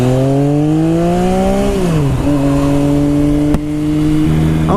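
A small stunt motorcycle engine idles high, its tone rising and dipping in pitch as the throttle shifts, loud and close with a steady tonal drone and no talking.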